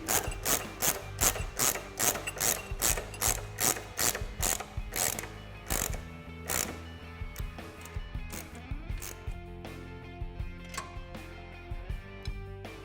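A ratchet wrench tightens the rear shock bolts on a Harley-Davidson motorcycle: rapid, loud, close pawl clicks in quick bursts, then slower, lighter ratcheting strokes among mechanical clinks.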